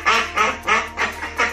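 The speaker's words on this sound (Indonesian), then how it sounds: "tapi ini adalah itik." A duck with goose-like plumage quacking five times in a quick, evenly spaced series, loud and close with nothing else heard.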